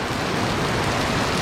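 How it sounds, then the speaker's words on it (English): Steady heavy rain pours outdoors, a dense, even hiss of drops striking surfaces close by, with no voices over it. "We're getting a little rained out."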